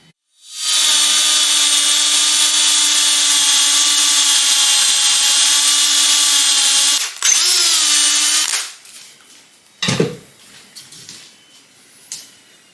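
A power drill bores pilot holes about four inches into a wooden stud while building a workbench, whining loudly and steadily for several seconds, shifting pitch as it finishes, then a few softer knocks and rattles.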